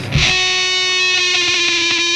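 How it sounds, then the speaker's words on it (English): Electric guitar through a fuzz pedal feeding reverb, shoegaze style: a single loud struck chord rings out thick, gnarly and saturated with long sustain, played alone. "So if I add this fuzz,"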